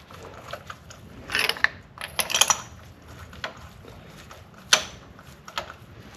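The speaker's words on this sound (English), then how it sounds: "If you're gonna use electric ratchet" An electric ratchet turning spark plugs on a 2010–2014 VW 2.5 L engine, giving bursts of rapid metallic clicking close by, separated by short pauses and single taps.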